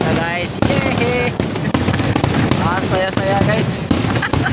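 Nighttime fireworks crackle and pop in a dense, continuous barrage, loud and close, with whistling rockets rising above the bangs while people talk and cheer underneath.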